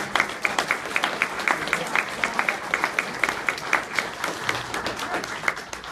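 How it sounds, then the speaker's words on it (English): An audience gives a round of applause to several speakers after a talk on the Madison Hardware story, steady dense clapping from a mid-sized crowd that holds for the whole stretch with no one speaking over it. "another round of applause"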